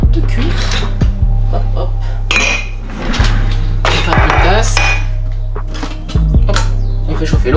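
A cup and dishes clink and clatter in a kitchen while black tea is made, sharp ceramic knocks and rattles coming in irregular bursts over a low steady hum, close and fairly loud.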